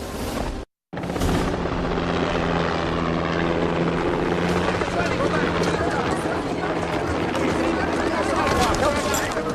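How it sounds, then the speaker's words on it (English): A helicopter's loud, steady rotor roar dominates, close and overhead, after a brief cut to silence near the start. "The news chopper."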